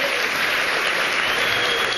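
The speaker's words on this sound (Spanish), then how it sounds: "Aplausos y asistentes en pie para agradecer al presidente de Estados Unidos" An audience on its feet gives the President of the United States sustained applause, a thick, even roar of clapping that holds at full strength for two seconds.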